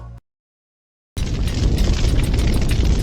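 A huge impact explosion on a planetary scale, erupting after a second of silence into a loud, sustained, roaring rumble that fills the rest of the moment without letup.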